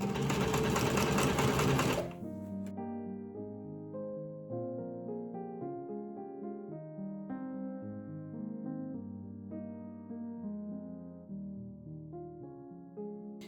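Sewing machine stitching a pillow case, a fast whirring run with bright noise for two seconds, then quieter steady mechanical hum and ticking of the needle continuing close by.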